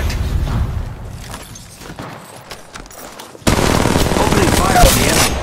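Gunfire in Apex Legends: scattered shots and bursts at first, then a loud, sustained barrage of rapid fire with a heavy boom near the end.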